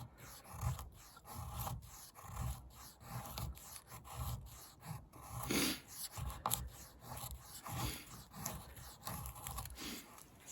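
Ground spine of a Mora Eldris knife scraping wood outdoors, a series of close, rhythmic rasping strokes, steady and moderately loud with no talking.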